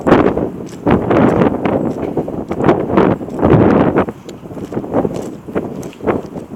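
Strong ex-hurricane wind gusts roar and buffet against the microphone outdoors, a loud, continuous rumbling rush that swells and eases in waves throughout.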